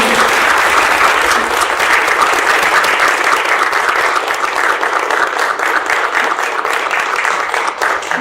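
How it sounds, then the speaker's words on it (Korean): Sustained, dense applause from an audience at a Korean-language speaking contest award ceremony honoring a gold prize winner, steady and loud for the whole stretch with no talk over it. "여러분 큰 박수 주시기 바랍니다"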